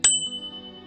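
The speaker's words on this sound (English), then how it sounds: "a sound like the dinging of a bell" A single bright bell ding strikes sharply, then its clear ring lingers and fades over a faint low hum.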